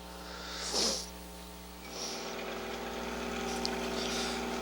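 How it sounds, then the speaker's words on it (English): Steady whining drone of a grinding wheel working a knife blade during mirror polishing, holding fairly constant with brief louder bursts as the blade meets the wheel. "I'll probably go ahead and hit those on the wheel, on the grinding wheel again"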